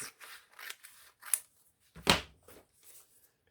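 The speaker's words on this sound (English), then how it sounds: "Cut it out with your paper scissors." Paper scissors snipping through paper for a homemade dinosaur Halloween costume, a few close, sharp crisp cuts scattered over a few seconds in a quiet room.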